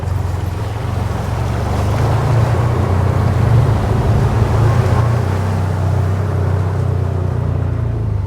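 Can-Am Defender Pro HD10 UTV churning through mud in four-wheel drive, a steady loud low engine drone with splashing and rumble throughout, no voices.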